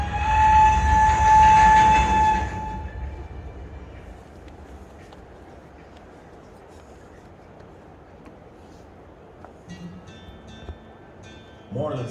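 A train passes in an exhibit film at a historic trails interpretive center, opening with a loud sustained horn blast for a couple of seconds, then settling into a low steady rumble of rolling railway cars with faint clatter and a brief noise at the end.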